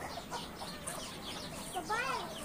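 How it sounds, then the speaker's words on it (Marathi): Hens clucking on a farm, with a few short, chirpy calls and a louder burst near the end over a low background murmur. "हे बघ किती कोंबड्या तिथं"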